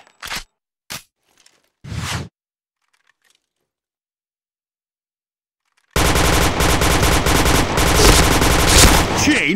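Rapid automatic gunfire in the video game Piercing Blow, preceded by a few isolated sharp shots and a pause, then a sustained loud burst of continuous firing.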